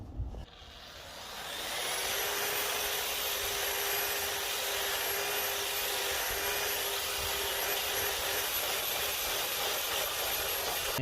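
A 320-grit buffing and polishing wheel spins up on stainless steel, a loud high-pitched whine with a steady rushing roar that holds for about ten seconds, close and alone.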